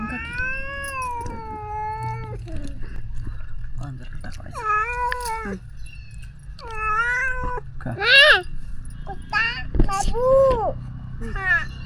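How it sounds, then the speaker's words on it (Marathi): Several cats meow repeatedly, long drawn-out cries coming one after another, fairly close, over a low background rumble, at a meal near Kharsundi Siddhanath temple. "कुत्रे मांजरे सगळे आलेत सोबत आपल्या जेवायला"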